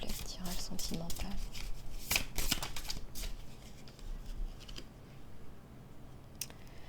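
Tarot cards are shuffled in quick riffling bursts close by, soft papery flutters and snaps for a reading, fading to quieter handling.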